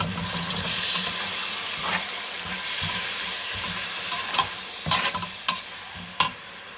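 Tomatoes sizzle and fry in a pan of rice dish base, with steady hissing and several sharp clinks of a spoon stirring against the pan near the end.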